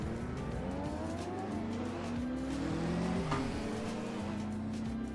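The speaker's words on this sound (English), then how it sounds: "we're in the Porsche 356 from 1948" A 1948 Porsche 356, rear-engine, air-cooled four-cylinder, driving at Laguna Seca: a steady engine drone with rising and falling pitch as it shifts and accelerates, with a brief tire squeal midway, loud and continuous throughout.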